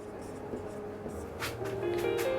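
Chalk or marker scratching across a classroom board during a maths lesson, soft intermittent strokes with a few sharper scrapes, fairly quiet and close, no talking over it.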